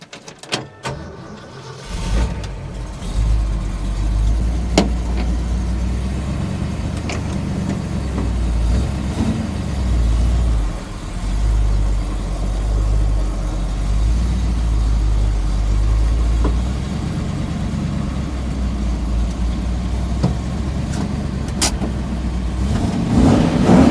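An old 1966 Ford F100 pickup truck engine rumbles steadily at low speed throughout, close by, with a few clunks and rattles as the truck rolls in.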